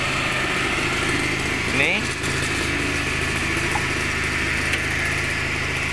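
A 1985 Suzuki Swift Mk1 two-door hatchback, an old front-wheel-drive car, running with a steady idling engine hum throughout, close by, with someone speaking briefly over it.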